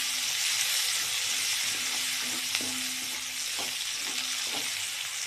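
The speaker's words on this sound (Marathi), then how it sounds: "आपण 1 चमचा आलं लसूण पेस्ट टाकलेली आहे, ते पण चांगलं परतून घेऊया।" Garlic and ginger-garlic paste fry in hot oil for a soyabean chilli dish, giving a loud, continuous sizzle with a few soft stirring taps and scrapes, up close and without talk.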